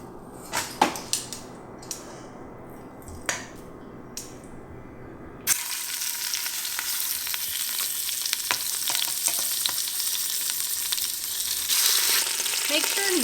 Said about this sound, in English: we'll add some oil to our Instapot and brown all sides of the meat.